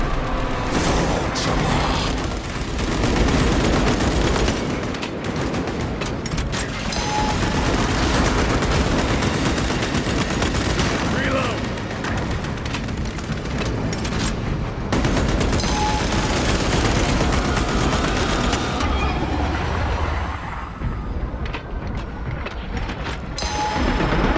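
Heavy sustained gunfire in Warhammer 40,000: Space Marine 2 as a squad concentrates fire on a Neurothrope, loud, dense bursts and booming impacts running almost continuously, easing near the end.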